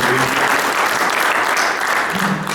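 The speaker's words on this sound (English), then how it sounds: "Have a round of applause for our panel here today." A room full of people at a panel discussion for a design-build industry event applauds steadily. Dense clapping runs loud and unbroken throughout the clip.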